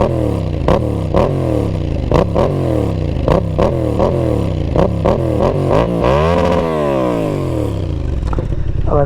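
A 2020 Yamaha MT07 motorcycle with a racing exhaust and the baffle removed, revved hard close up in a series of sharp, aggressive blips, then one longer rev that climbs and falls back to a rough idle.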